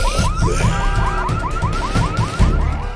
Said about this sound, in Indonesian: Alarm bis itu pun bunyi.